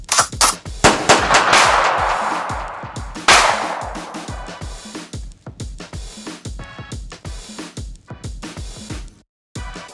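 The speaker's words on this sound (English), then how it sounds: "Scalise and Unselme shot him multiple times" Rapid bursts of gunfire ring out in a 1920s Chicago gangland shooting, close and loud, with dense volleys early on giving way to scattered repeated shots and a brief pause near the end.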